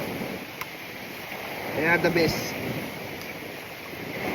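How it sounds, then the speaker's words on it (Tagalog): Wind and waves at the seashore during a stormy outdoor lunch, a steady rushing wash that fills the background with a brief swell near the middle while a voice speaks briefly over it. "Kampas ng alon. Maririnig hangin."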